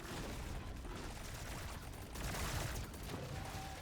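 Thunderhead heavy weapon firing in Deep Rock Galactic Survivor, a continuous dense barrage of rapid gunfire and mechanical clatter that runs steadily throughout at a fairly quiet level, with no voices.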